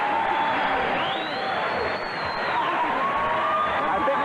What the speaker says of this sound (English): I think they're cheering both fighters.